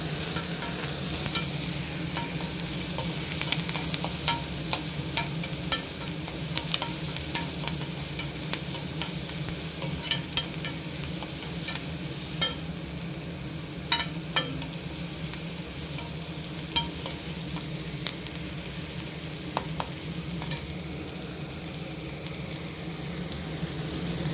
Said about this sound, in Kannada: ಈರುಳ್ಳಿ ಕರಿಬೇಸೊಪ್ಪು ಹಸಿಮೆಣಸು ಮೂರು ಹಾಕ್ಕೊತೀನಿ ಚೆನ್ನಾಗಿ ಫ್ರೈ ಮಾಡ್ಕೋಬೇಕು